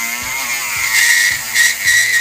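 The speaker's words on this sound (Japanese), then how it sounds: "そしてルーターの先に丸いサンドペーパーのついたもので入れていきます。" A rotary tool fitted with a round sandpaper bit grinds into a handmade wooden fishing lure, giving a steady high whine with short rasping bursts repeating about every half second, close and alone.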